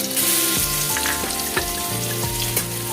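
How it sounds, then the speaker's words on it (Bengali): Crushed garlic frying in hot oil with nigella seeds in a pan, a loud, continuous close sizzle with a few brief clatters of stirring. "কালো জিরে ফোড়নে এবার রসুনটা থেতু করে রেখেছিলাম সেই থেতু করা রসুনটা"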